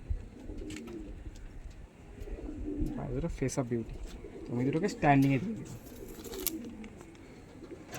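Pet pigeons cooing in a loft, several low throaty coos rising and falling, strongest and closest just past the middle, while someone talks over them throughout.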